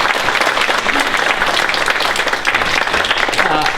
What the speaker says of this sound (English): I'd like everybody to give a round of applause to our speakers.